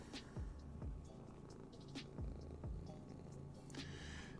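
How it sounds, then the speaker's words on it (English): A house cat purrs close by in a quiet room, a steady low rumbling purr with rhythmic breaths repeating every second or so, with no voices over it. "for some reason the cat wants to watch this one"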